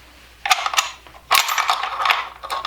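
Two-piece bolt sliding out of an Albanian SKS rifle, two bursts of close metallic clacks and scraping, sharp and fairly loud, with no talking.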